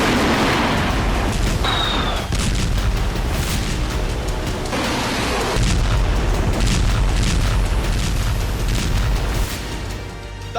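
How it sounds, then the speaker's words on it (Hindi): Explosions from Russian missile and drone strikes on Kyiv, Ukraine, give a series of loud, heavy booms with rumbling decay, one after another over a noisy outdoor background, with a brief whistle-like tone early on. "इस दिन रूसी सेना ने यूक्रेन पर जिस तरह का बारूदी प्रहार किया"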